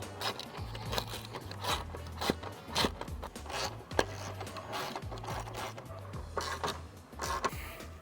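Socket wrench with a 10mm socket tightening spotlight mounting bolts on a vehicle grille, repeated ratcheting clicks in short bursts, close and fairly quiet, with no talk.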